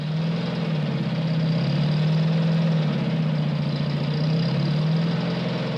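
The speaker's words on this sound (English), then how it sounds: "They send over bulldozers to level out the site." A heavy bulldozer engine idles and rumbles steadily while leveling a site in Antarctica, its low knocking drone rising and falling slightly, close and continuous with no voices.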